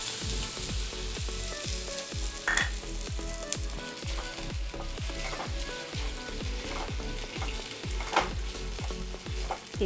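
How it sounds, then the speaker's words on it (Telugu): A medium potato fries in hot oil for a Spanish omelette while being stirred constantly: a bright continuous sizzle with a quick, steady run of spatula scrapes and taps throughout, close up and free of speech. "బంగాళదుంపని ఒక ఫైవ్ టు సిక్స్ మినిట్స్ బాగా వేయించుకోవాలండి కలుపుకుంటూ వేయించుకోవాలండి"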